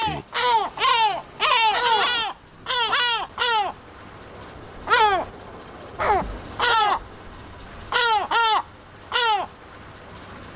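Gulls calling loudly and close at hand, repeated bursts of harsh, wailing cries in clustered volleys with short pauses between them, loud enough to nearly overload the recording.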